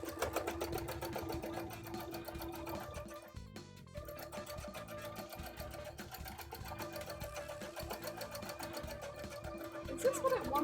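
A sewing machine stitches bra fabric in a steady, continuous whir that runs close and loud for most of the stretch, with a short pause partway through and faint talk underneath.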